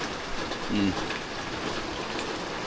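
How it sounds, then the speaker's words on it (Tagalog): Steady rain falls with a constant hiss of drops on surfaces, heard nearby, with a brief low voice murmuring briefly over it. "Nasa ulan yan ha. Naulan yan."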